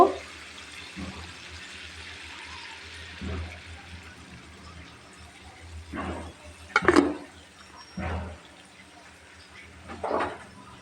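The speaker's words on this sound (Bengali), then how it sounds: "আমি এখানে গরম পানিটা দিব" Hot water is poured into a pot of chicken and potato curry in a home kitchen, in several short, quiet splashing pours spaced a few seconds apart.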